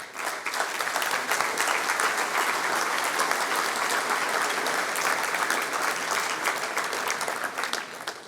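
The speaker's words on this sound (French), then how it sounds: "Oui, on peut les applaudir." A hall audience applauds steadily at a mayor's 2016 New Year's reception in Sélestat, a dense, even wash of many hands clapping that holds at full strength for about eight seconds with no voices over it.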